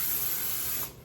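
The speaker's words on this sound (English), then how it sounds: "We're gonna take our canola oil and just lightly spray the bottom." A steady hiss of canola oil spray misted onto the bottom of a baking pan, continuous for about a second before tapering off.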